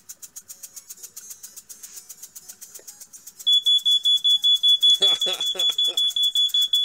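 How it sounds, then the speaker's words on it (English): A smoke alarm mounted over a workbench beeps in a steady, rapid series of shrill chirps that grow louder partway through, while a running antique model steam plant adds faint mechanical ticking and a voice speaks briefly near the end. "Yeah, that's my smoke alarm."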